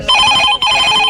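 A telephone rings loudly and close by with two bright electronic rings, separated by a brief break and heard alone.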